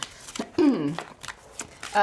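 Cards from the Pandemic Legacy Season 0 board game are shuffled in quick papery riffles and flicks, heard close and partly under a person talking.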